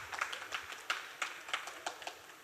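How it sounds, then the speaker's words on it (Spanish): A few people in a university lecture setting clap sparsely to welcome a speaker. The claps come as a short, quiet run of distinct slaps rather than full applause. "Un fuerte aplauso para bienvenida"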